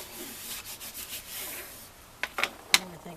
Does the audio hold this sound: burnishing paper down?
yes